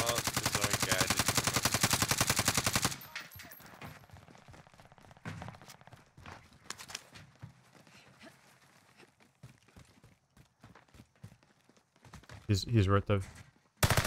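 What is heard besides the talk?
gunfire in video game Call of Duty Warzone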